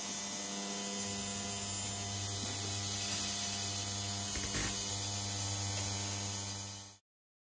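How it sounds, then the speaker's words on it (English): An ultrasonic cleaner runs steadily while it strips hardened burnt flux from soldered fuel line banjo parts, holding a constant electrical hum and hiss with a faint rattle until it cuts off abruptly near the end. "we'll see if that hardened burnt on flux has been removed by the ultrasonic cleaner"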